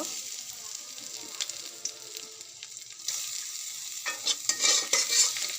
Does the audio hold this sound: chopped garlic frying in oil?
yes